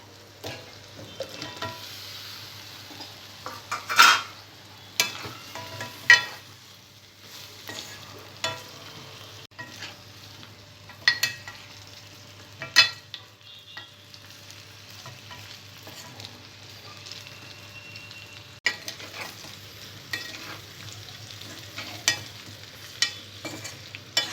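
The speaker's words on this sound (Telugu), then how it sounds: "చికెన్ వేసిన తర్వాత ఆయిల్లో 10 మినిట్స్ పాటు బాగా ఫ్రై కానివ్వాలి" Country chicken pieces fry in oil with ginger-garlic paste in a pan, making a faint, low sizzle broken by scattered spatula stirs and clinks, close by and with no talking.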